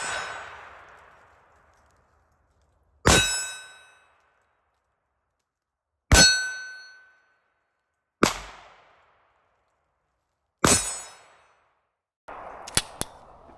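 Five sharp Staccato XC pistol shots ring out, spaced a few seconds apart, each followed by a bright metallic clang from steel targets that decays into silence, with a last burst of rattling near the end.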